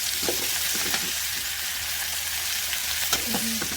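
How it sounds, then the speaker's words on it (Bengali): Prawns sizzle steadily in hot oil in a frying pan, a constant bright crackling hiss broken by a few light clinks and scrapes of stirring. "এদিকে চিংড়ি মাছগুলো একটু ভাজা হয়ে গেছে, এখন উল্টিয়ে দেবো।"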